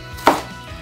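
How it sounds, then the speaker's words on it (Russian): A single crisp knife chop through cabbage on a cutting board, one sharp close stroke followed by quiet, cabbage being cut very finely for Japanese gyoza dumplings. "Итак, капусту я нарезал."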